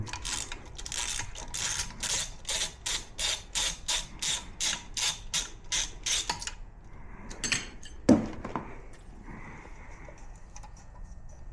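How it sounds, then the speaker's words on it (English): Rapid ratchet clicks in a steady run of about a dozen bursts as nuts come off the carburetor of a 1968 Corvette, followed by quieter metallic handling and a sharp clunk. "we're going to remove these other 2 nuts, and that should break free the carburetor"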